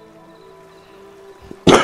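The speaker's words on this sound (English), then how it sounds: "sorry, the cough just doesn't want to go away" A single sharp, loud cough bursts out at the end after near-silence, close to the microphone.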